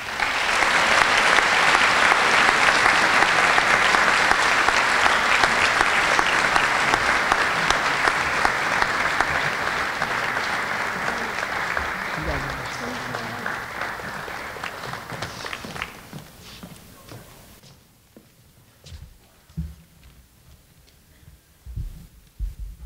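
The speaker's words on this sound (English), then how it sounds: "Big round of applause, please." Sustained audience applause at a high school academic awards ceremony, dense and loud clapping for about fifteen seconds that thins out and fades to scattered claps and quiet.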